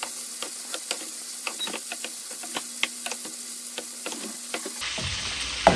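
Spinach soup simmering in a pot on the stove, giving a steady low sizzle with soft bubbling and scattered small pops over several seconds, then a brief change in tone near the end.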